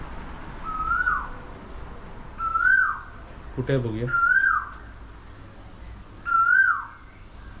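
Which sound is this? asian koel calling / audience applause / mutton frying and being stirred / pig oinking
asian koel calling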